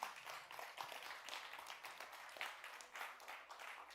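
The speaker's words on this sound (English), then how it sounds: "please welcome him with a warm hand of applause" A modest audience at a music industry panel event claps for an incoming host, the applause fairly quiet and uneven with a few distinct individual claps.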